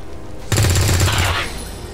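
A rapid burst of automatic gunfire in XCOM on Xbox One, loud and close, lasting under a second after a quiet lead-in, then fading into a low tail.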